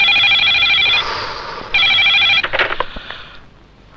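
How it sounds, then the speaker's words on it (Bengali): Telephone ringing on a call to a police station, with two loud electronic ring bursts separated by a pause, followed by brief clatter and a quieter tail. "থানায় ফোন লাগাও।"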